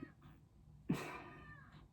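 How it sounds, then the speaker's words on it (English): A cat meows a few times indoors, close and fairly quiet, with one louder, longer meow in the middle and short calls around it against a soft room background. "Why are you meowing so much?"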